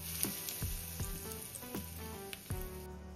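Curry leaves and a pinch of asafoetida frying in hot oil for an Odia potato bhaja, a steady soft sizzle with small crackles. Background music plays under it and there is no talking.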